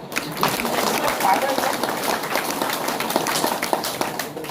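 Audience at a town hall speech clapping in a crowded burst that runs throughout, with a voice talking over the applause.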